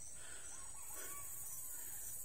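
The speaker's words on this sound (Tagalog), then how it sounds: "Manok." A rooster crows faintly in the distance in a quiet rural outdoor spot with trees and fruit, the call soft and partly buried under steady background hiss with no talking.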